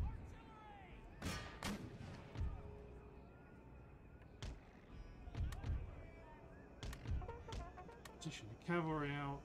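Artillery fires in an Empire: Total War battle, with several sharp booms and thuds spread irregularly through busy game sound while someone talks.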